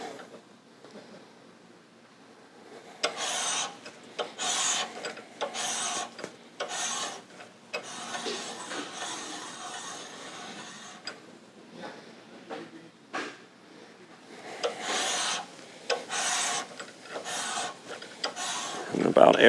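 Counterbore cutting on a Caterpillar C15 engine block with a Monaco hand tool: repeated rasping, grinding strokes of metal being cut in uneven bursts, close up, with pauses between passes.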